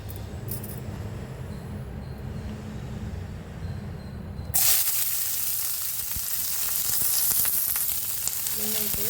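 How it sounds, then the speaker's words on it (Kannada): Chopped onion and two green chillies fry in a little oil for an amaranth and fenugreek leaf palya, a low crackle that jumps to a brighter, louder hiss and sizzle midway, then holds steady with no talk. "ನೋಡಿ ಆನಿಯನ್ ಫ್ರೈ ಆಗ್ತಾ ಇದೆ."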